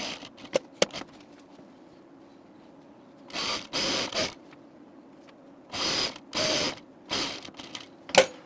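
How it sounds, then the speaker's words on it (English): A sewing machine stitches a half-inch seam on a jean jacket in several separate bursts of rapid whirring, with a few sharp clicks at the start and between runs, all close and clear. "We're going to sew them at a 1/2 inch seam."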